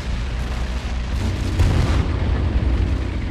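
Tank cannon shots and explosions in the video game Battlefield 1942, a continuous loud, low rumbling barrage of booms with a heavier blast near the middle, no voices.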